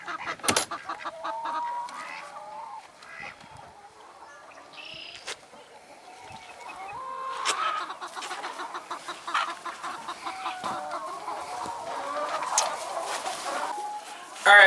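Hens cluck and call continuously inside a hen house on a home farm, several birds close by at a steady moderate level with overlapping clucks and occasional louder squawks.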